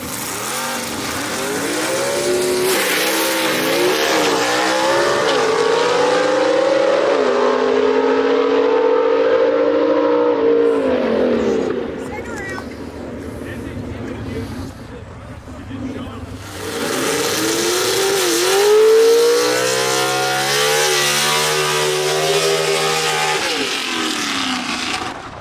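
Gasser drag race cars launching down the strip at Gulfport Dragway, loud rising engine howls with gear-change dips in two long runs, a brief lull between them, and an announcer's voice over the roar.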